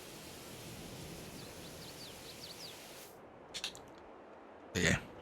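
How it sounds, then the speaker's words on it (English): A pressure washer in a video game sprays down a dirty vehicle with a steady, hissing rush for about three seconds, then cuts off, followed by a few short clicks and a brief burst of noise. "Give this a quick spray down."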